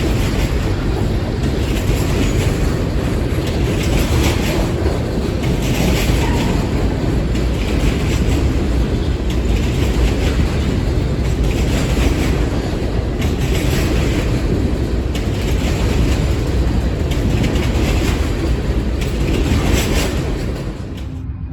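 Freight train led by Kansas City Southern and BNSF locomotives rolling past close by, a steady, loud roar of wheels and cars with rhythmic clatter and no talk.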